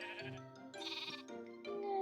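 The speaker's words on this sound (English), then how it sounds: "And that's how we put the sheep in the hole." Minecraft sheep bleat several times in a row, wavering digital baa calls that are clear and close with no talking.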